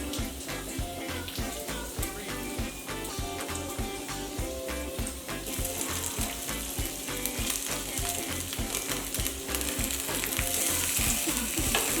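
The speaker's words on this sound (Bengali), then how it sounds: "আমি স্পিনাচটা একটু ভেজে নিই পাশে" Spinach with chopped garlic frying in a little white oil, a steady close sizzle with rhythmic clatter and stirring running the whole way, no talk.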